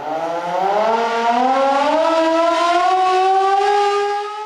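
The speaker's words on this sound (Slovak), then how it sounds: "Pozor, spúšťa sirén." A civil defense siren at a civil-defense shelter in Banská Bystrica winds up from a low growl to a loud, rising, steady wail over several seconds, close and with no talking.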